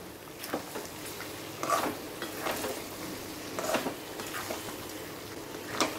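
Chicken is sautéed with ground coriander and cumin, giving a soft, low sizzle broken by several louder scraping stirs at irregular intervals, with no talk.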